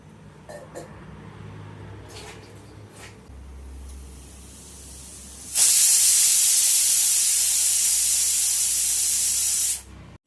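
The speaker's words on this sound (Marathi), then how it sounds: "त्याची पहिली शिटी दिली कुकरने" A kitchen pressure cooker cooking drumstick pods lets out its whistle: a loud, steady, close hiss of escaping steam that bursts in suddenly, holds for about four seconds, then cuts off, after quieter background clatter.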